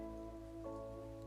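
Soft, steady rainfall patters beneath a sustained, humming musical drone, quiet and continuous with no voices over it.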